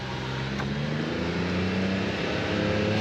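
A CF Moto U10 Pro side-by-side driving, its engine giving a steady, loud drone with a low hum and broadband road and wind rush throughout, no talking.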